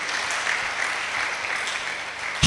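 A church congregation at a prayer and fasting service applauds, with a continuous dense patter of clapping for a couple of seconds that is fairly steady and moderately loud, ending in a sharp knock.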